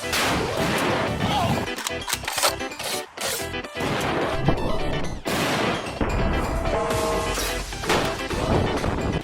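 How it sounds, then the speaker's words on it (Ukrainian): Sharp, loud gunshot cracks from a Mossberg punch through a chaotic stretch of crashes and impacts, with a voice talking intermittently over the din. "Постріл!"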